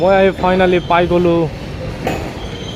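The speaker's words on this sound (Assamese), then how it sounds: "এইটো ট্ৰেইন গৈ আছে" A train rumbles through Lumding railway station, a low steady rolling under someone talking close by for the first half, then carrying on more faintly alone.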